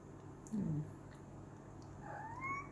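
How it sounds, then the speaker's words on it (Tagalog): Cats scuffling at close range, with a brief low growl followed later by a rising yowl over faint room noise. "May friendly fight sila ng ate niya, si Ate Lemon."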